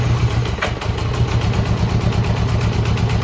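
A 40-year-old Honda GL1100 motorcycle engine idles steadily after a choke adjustment, a close, loud, even putter with a low rhythmic throb and no voices.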